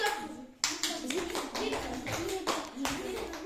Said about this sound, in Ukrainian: Плескаємо два рази і передаємо.